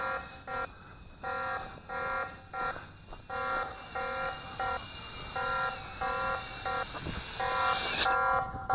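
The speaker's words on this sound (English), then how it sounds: "No power. That gives you a warning. Beep, beep, beep." An AirSelfie E03 selfie drone sounds its low-power warning, a steady run of short repeated beeps in regular bursts, close and fairly loud, ending abruptly.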